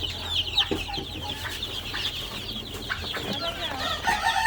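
Young tiger and naked-neck chicks share a poultry pen with two Pekin ducks, filling it with constant close, high peeping and clucking chatter.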